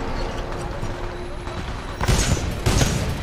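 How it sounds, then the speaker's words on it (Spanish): Rocket fire and explosions in the video game Titanfall 2, a busy rumble of launches with sharper bursts late on, mixed under a man's speech. "son muchos cohetes"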